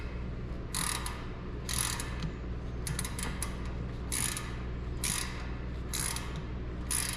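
A ratchet with a spark plug socket loosens a spark plug on an older GMC Sierra Stepside pickup, giving repeated short bursts of dry clicking spaced about a second apart over a low steady hum, close up and with no talking.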